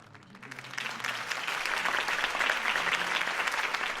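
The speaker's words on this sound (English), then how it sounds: "could have heard that applause" Applause from a crowd in a Batman video game swells up and holds steady, dense clapping with no talking over it.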